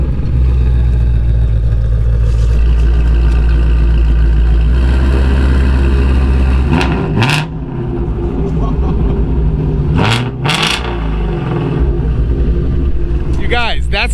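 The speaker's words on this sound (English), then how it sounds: "You guys, that's the stock exhaust on that car. That thing sounds nasty." A sports car on its stock exhaust idles with a deep, loud rumble, then blips sharply with a couple of throttle revs near the middle. A short voice is heard near the end.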